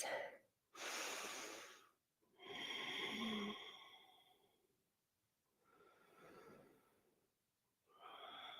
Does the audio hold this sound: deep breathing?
yes